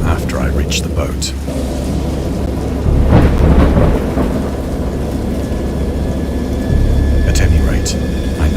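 Rain pours steadily in the video game Dagon while low thunder rumbles and rolls, swelling twice, with a voice speaking over the stormy backdrop.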